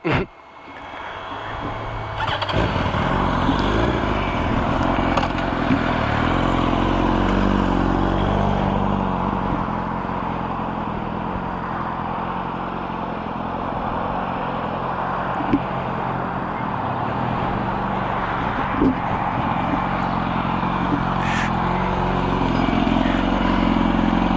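A 2004 Yamaha R1 motorcycle engine held at raised revs while the clutch slips, giving a loud, steady, sustained drone that barely rises or falls for the whole stretch.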